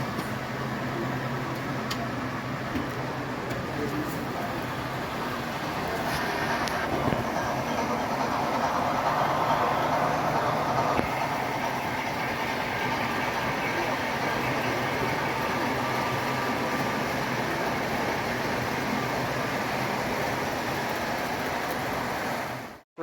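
A model train pulled by an Alco SC38 locomotive runs at a club session, a steady continuous rumble with rail clatter lasting throughout, moderately loud and close, with no talk.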